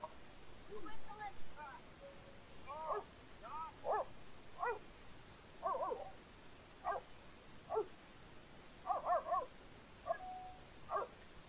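Two dogs in The Sims 3 give a string of short yips and barks, evenly spaced and fairly faint, some bursts doubled, with a soft background hum beneath.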